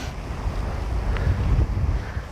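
Steady wind buffets the microphone on an exposed Peak District hillside walk in rain, a continuous low rumbling roar with gusty swells throughout and no voices.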